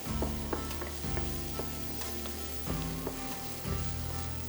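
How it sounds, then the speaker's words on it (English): Shallots frying in oil with salt and pepper give a continuous crackling sizzle, stirred so the spoon knocks and scrapes the pan several times in an uneven rhythm. Close and moderately loud, no talking. "Stir it around in the oil."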